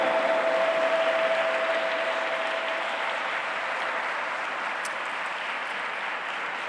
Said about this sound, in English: Please put your hands together and welcome, with a round of applause